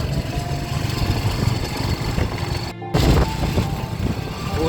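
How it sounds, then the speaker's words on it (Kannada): An old Kawasaki motorbike engine runs at a steady, loud idle close by with a buzzing, throbbing drone, briefly cut by a short gap before it continues, and no one speaks. "ಊರಿಂದ ಬೈಕ್ ತಂದಿದ್ದಾರೆ, ಬೈಕಲ್ಲಿ ಹೋಗ್ತಿದ್ದಾರೆ."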